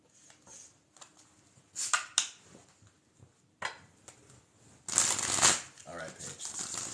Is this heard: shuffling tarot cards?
yes